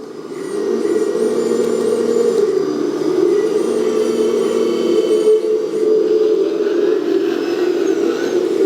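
A steady mechanical whir from the small electric rotation motor of a 1/12-scale RC hydraulic excavator, continuous and fairly loud, with a faint high whine riding on top; no talking.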